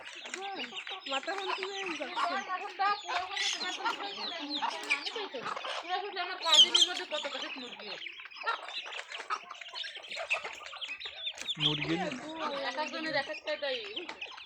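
Hens clucking and chattering at morning feeding time make busy, overlapping calls close by, mixed with people talking.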